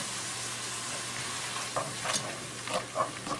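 A full stick of butter melting and sizzling in a pot of sautéed vegetables for clam chowder, giving a soft continuous hiss with a few brief stirring scrapes toward the end.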